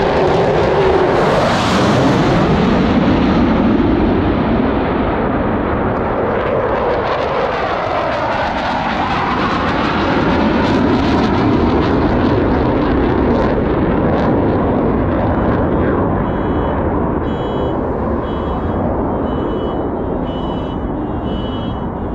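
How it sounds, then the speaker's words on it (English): Blue Angels jets thunder overhead with afterburners lit, a very loud, sustained roar that swells, sweeps past with a shifting pitch and fades into a rumbling tail. "here comes the Blue Angels"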